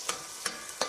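Italian sauce cooking in a pan, with a soft steady sizzle and three brief scraping stirs at close range, no voices.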